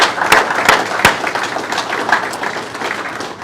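Steady applause from a crowd at a baseball and softball hall of fame banquet, many hands clapping together at a moderate distance, filling the whole clip without any voices.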